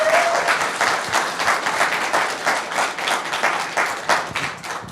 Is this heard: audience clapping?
yes